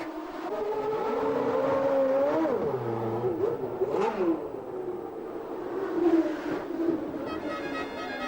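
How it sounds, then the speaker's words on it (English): Nigel Mansell's Ferrari racing car at speed, a loud engine howl rising and falling through gear changes as it passes close, then fading and surging again. "The Ferrari shows its form. Quick."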